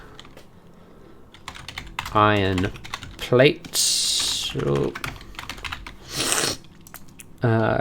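Quick computer-keyboard typing clatters in bursts of sharp clicks, heard between stretches of someone speaking casually while he plans a Factorio smelting layout.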